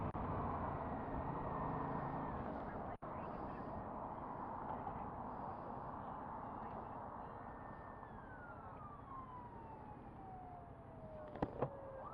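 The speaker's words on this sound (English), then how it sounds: "cop coming down the hill" A police car siren passes on a road while a rider on a 2016 Yamaha FZ-07 motorcycle waits nearby, its wail steady at first and then falling in pitch as the car goes by, all under constant engine and road noise.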